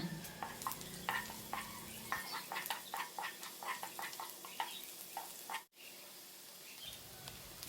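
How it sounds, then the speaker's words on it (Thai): Minced garlic stir-frying in about two tablespoons of vegetable oil in a wok, with a steady soft sizzle under repeated scraping, tapping strokes of the spatula, fairly quiet and close. "ใส่น้ำมันพืชประมาณ 2ช้อน โต๊ะนะคะ ลงในกระทะแล้วก็กระเทียมสับ ค่ะ ผัดให้กระเทียมเราหอมดีก่อนนะคะ"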